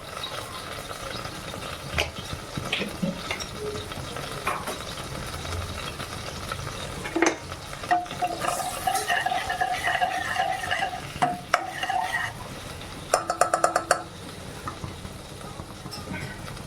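Cumin and whole-spice paste fry in a pan with a steady sizzle while a spoon stirs and scrapes, and a few sharp clinks of metal utensils ring out near the end.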